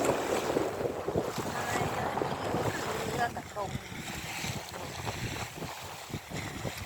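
Strong wind buffets the microphone while river waves slap and splash against a boat after rain, a constant rough roar with choppy bursts of water.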